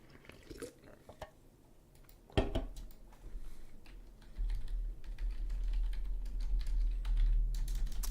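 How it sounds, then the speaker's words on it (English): Quick, uneven clicks of typing on a computer keyboard tap in short bursts against a low background hum that swells louder partway through. "He's typing."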